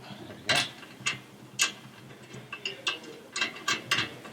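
A nut is threaded by hand onto a bolt at the back of a cast iron crank table during assembly, giving about a dozen short metallic clicks and ratcheting taps, irregularly spaced, close and moderately loud.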